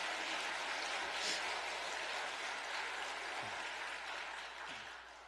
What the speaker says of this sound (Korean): 박수를 다시 한번 보내십시오